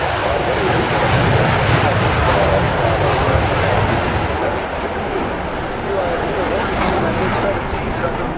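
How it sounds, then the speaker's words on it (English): An F-100 Super Sabre jet at an air show roars past loud and close, its broad engine rumble holding steady throughout, with an announcer talking over it. "F-100 Super Sabre just rolled from left to right across us."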